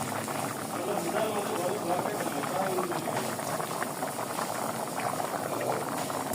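Fish curry of coral fish (barramundi) with bottle gourd bubbling in a pot, a steady close simmering burble that fills the whole stretch without a break.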